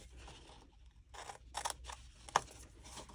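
Scissors snip through card while a thank-you gift box is cut out, a few quiet separate cuts with one sharper snip near the end, close by.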